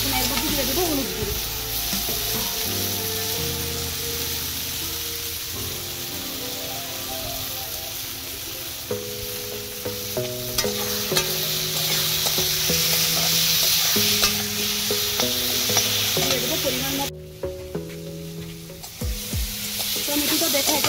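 Tomatoes for a homemade chutney simmer and sizzle in a pan while being stirred, a steady close frying hiss with repeated scraping strokes running throughout, no talk.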